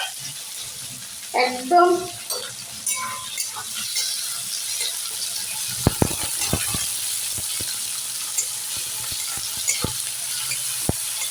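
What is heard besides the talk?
onions frying in hot oil for Maggi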